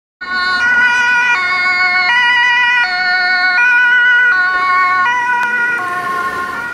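A toy ambulance siren plays a loud, steady two-tone electronic wail, stepping back and forth between high and low pitches at close range with no talk over it.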